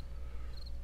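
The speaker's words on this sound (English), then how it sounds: "Alright, there's the crickets." Crickets chirping in the 7 Days to Die Darkness Falls video game, a steady quiet insect trill with a faint high-pitched tone under low background hum.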